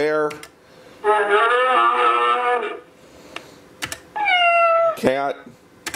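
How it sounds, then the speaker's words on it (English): Recorded cat meows from a toddler's Raspberry Pi arcade button toy, a loud drawn-out meow followed by a second shorter one, with button clicks and brief speech around them. "Cat."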